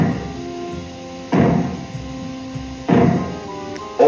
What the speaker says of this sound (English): When fallout is expected, you will hear 3 bangs in short succession. They will be sounded by means of maroons like this.